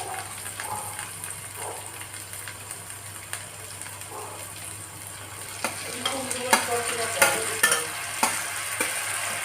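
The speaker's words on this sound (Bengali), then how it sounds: "পেঁয়াজটা প্রায় ভাজা হয়ে গেছে, এবার টমেটোটা দিয়ে দেবো।" Onion and tomato frying in a pan, a close continuous sizzle with scraping stirs and spatula knocks that grow busier toward the end, with no talking.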